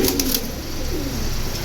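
Silver pigeons coo softly in a loft, a low murmuring purr with a few soft pulses, close and steady under a constant background hiss.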